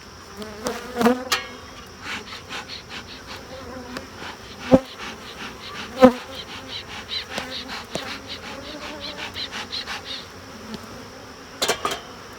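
Honeybees from an unusually feisty hive buzz steadily and close throughout an inspection, their dense drone broken by a few sharp knocks and clicks and a brief louder rustle near the end.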